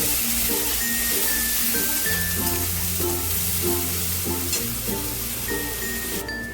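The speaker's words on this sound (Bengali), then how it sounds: "পেঁয়াজটাকে একটু ভাজা ভাজা করে নেব" Chopped onion frying in a pan with oil and tempering spices, a steady close sizzle broken by repeated stirring scrapes throughout.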